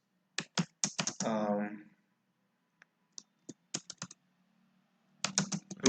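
Bursts of computer keyboard typing as code is written, quick clusters of close keystrokes separated by pauses, with a brief spoken hesitation between them.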